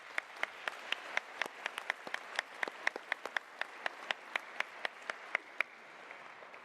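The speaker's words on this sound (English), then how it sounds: "let's give a round of applause to all of the incredible humans who have shaped CKRM" An audience claps to honour the voices of CKRM radio, with sparse, distinct claps sounding at a quick, uneven pace, fairly faint and fading toward the end.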